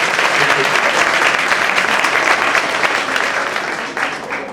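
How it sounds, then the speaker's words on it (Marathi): A seated audience claps loudly for the teachers during an interview event with a school principal, a dense, steady burst of applause that holds for several seconds and tapers slightly at the end. "गुरुजन साहेबांसाठी जोरात टाळ्या होत्या एकदा."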